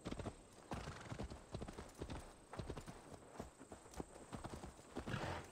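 Hooves clip-clop in a quick, steady galloping rhythm, with a horse's whinny and faint game-like ambience beneath, from the video game Assassin's Creed Valhalla.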